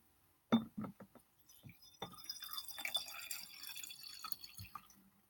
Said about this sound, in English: And I'm going to put in vinegar because we want to sour his life.